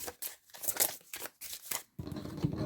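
Tarot deck being split and shuffled, crisp riffling card flutters in quick bursts close up, ending in a denser rustle.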